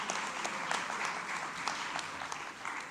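An audience at the second Masizi Kunene memorial lecture applauds Professor Zodwa Mosa Matikane, a brief burst of many hands clapping with a few sharper individual claps standing out.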